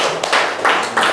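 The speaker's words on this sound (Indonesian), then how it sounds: "Cukup ya, tepuk tangan dulu." An audience claps their hands in a short, bright flurry of overlapping claps that swells in a few quick pulses, sounding close and fairly loud.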